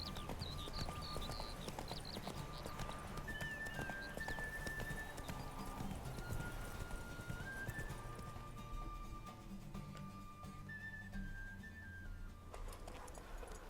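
Roach the mare gallops in The Witcher 3, her hooves clip-clopping in a rapid, steady beat that runs the whole stretch under faint tonal game music.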